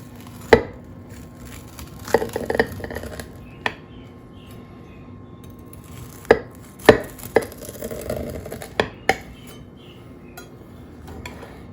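Knife slicing through cornbread on a plate or board, a series of sharp irregular knocks and scrapes spread across the clip, close and fairly clear with quiet gaps between cuts.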